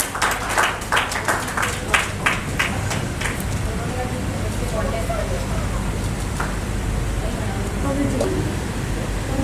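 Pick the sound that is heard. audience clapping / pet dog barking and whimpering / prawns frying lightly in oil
audience clapping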